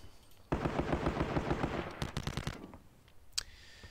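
A machine gun unit in the wargame Panzer Battles Kursk lets off a loud, rapid burst of automatic fire lasting about two seconds, then a short echoing tail and a lone sharper crack.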